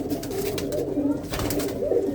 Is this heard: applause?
no